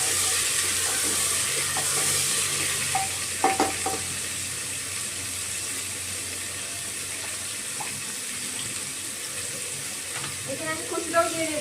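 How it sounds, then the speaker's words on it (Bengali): Chopped potatoes sizzle in a pan while being stirred, a constant close frying hiss broken by scattered clinks and scrapes of the spoon. "আর এখানে কেটে রাখা আলুটাও দিয়ে দেবো, দিয়ে ভালোভাবে নাড়াচাড়া করে নেবো।"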